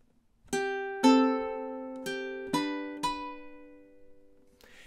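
A ukulele plays measure 8 of a song. Five clear plucked notes ring out at a moderate, evenly spaced pace, each sustaining and decaying, followed by a faint soft strum.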